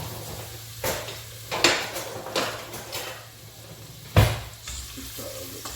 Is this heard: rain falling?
no